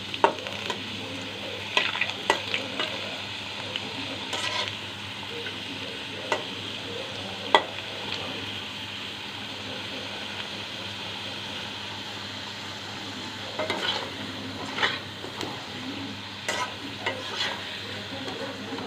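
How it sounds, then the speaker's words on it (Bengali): Steady crackling sizzle of potatoes frying in oil, with occasional louder scrapes and stirring clinks throughout, no voices. "আর একটু ভেজে নিয়ে আমি আলুটা তুলে ফেলব।"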